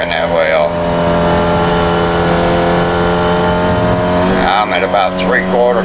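A Formula Vee race car in iRacing holds a steady, buzzing engine drone at part throttle, close and loud, while someone talks over it throughout.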